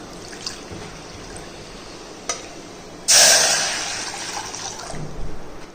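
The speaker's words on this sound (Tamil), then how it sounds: "1 கப்பு தண்ணி ஊற்றிக்கிடுவோம்." Water from a cup poured into a cooking pan to heat for corn flour dough, a sudden splashing gush that tapers off over a couple of seconds, fairly close and alone.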